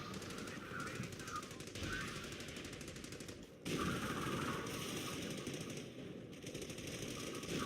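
A stationary machine gun firing in the Company of Heroes video game: sustained rapid rattling bursts that run almost without pause, with a brief gap midway, over dense battlefield noise.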